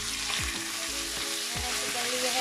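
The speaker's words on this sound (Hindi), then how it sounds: "अब मैं डालने लगी हूँ उसमें चिकन" Continuous hiss of boneless chicken frying with spices in a hot pan, with a few scraping stirs of a utensil against the metal.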